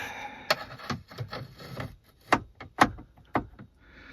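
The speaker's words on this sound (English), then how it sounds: "so now we just pried it open" Trim panel on a Mercedes B250e dashboard pried open, giving a series of sharp plastic clicks, creaks and scrapes in irregular bursts, close by and moderately loud.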